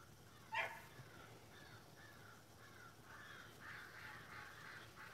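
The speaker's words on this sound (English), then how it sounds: "the crows are" Crows caw outdoors on a quiet morning: one short, sharp call up close, followed by a faint series of distant caws repeating over a low background hum.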